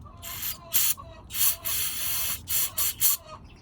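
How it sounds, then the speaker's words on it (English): Several short hissing bursts of an aerosol spray can, some quick and clipped, one longer sustained spray in the middle, close up. "I guess I can spray a bit more down there."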